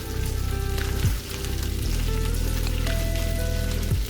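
Steady sizzling of cabbage frying in a pan, a soft crackling hiss over a low hum throughout.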